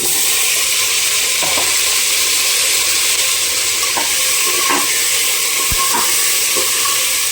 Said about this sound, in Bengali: ধুয়ে রাখা আলুগুলো তেলের মধ্যে দিয়ে দিই।